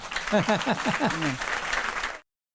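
A church congregation applauding during a French service, with a brief vocal cry over the clapping before it cuts off abruptly.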